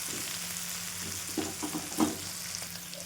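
Bitter gourd sautéing in oil in a pan, Telangana style, with a soft continuous sizzle and a few light scrapes and taps of the spatula partway through.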